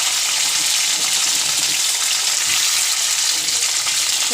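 Capsicum pieces, garlic and curry leaves frying in a pan for a capsicum curry, giving a loud, steady, bright sizzle that holds evenly throughout with no talk.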